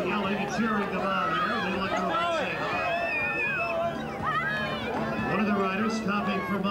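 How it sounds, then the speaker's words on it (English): A crowd of parents yells and cheers at a kids' bicycle race at the Redlands Bicycle Classic, a dense, continuous outdoor babble of overlapping shouts and encouraging calls that stays loud and close throughout. "the parents are yelling and cheering them on"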